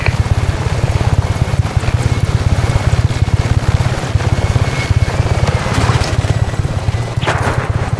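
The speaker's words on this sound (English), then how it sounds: "Be advised that chopper support is approaching your location." A helicopter approaches in the video game Just Cause 3, its rotor thudding in a fast, even chop over a loud engine roar, steady and close throughout with no speech.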